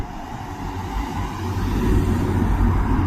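Cars pass at a pedestrian crossing on a street, a loud steady rumble of engines and tyres that swells as vehicles draw nearer, with no talking.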